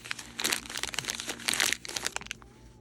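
Paper crinkles and crunches while Mini Brands toys are unboxed, coming in repeated close, bright bursts that swell and fade over a few seconds, with no talk.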